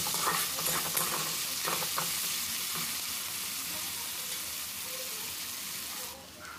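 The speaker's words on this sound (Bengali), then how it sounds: "পেঁয়াজটা এখানে হালকা ভেজে নিতে হবে, বেশি ভাজার দরকার নেই," Chopped onions frying lightly in a pan for a Bengali potato and pointed gourd curry, giving a steady close sizzle with brief stirring scrapes early on, fading slightly at the end.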